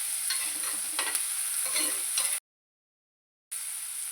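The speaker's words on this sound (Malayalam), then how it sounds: "ഉള്ളി, ഇഞ്ചി, പച്ചമുളക്, കറിവേപ്പില എല്ലാം വഴണ്ട് വന്നിട്ടുണ്ട്." Onion, ginger, green chilli and curry leaves sauté in a pan for a sardine curry, a loud close sizzle with stirring scrapes, cut by a second of silence.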